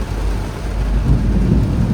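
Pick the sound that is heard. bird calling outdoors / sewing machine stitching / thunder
thunder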